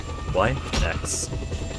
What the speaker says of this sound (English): hovering into the trees for that would have meant starting with the helicopter going out of control